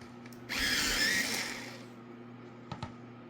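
A pencil sharpener grinds a Prismacolor Premier colored pencil in one steady whirring burst lasting about a second, followed by a couple of faint clicks against a quiet background hum.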